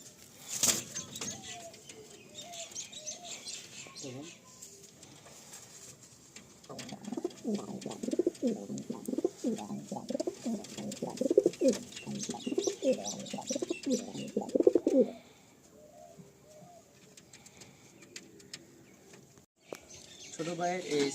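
Pigeons of a prized flying breed in a loft coo repeatedly in a soft, low, rhythmic run through the middle stretch, close by, with scattered background noise and faint talk around it.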